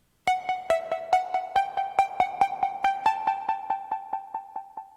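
A Synthmaster synth plays a plucky trap melody of evenly spaced eighth notes, each ringing out through delay and reverb, with the pattern settling onto repeated tones and fading toward the end, alone and fairly loud.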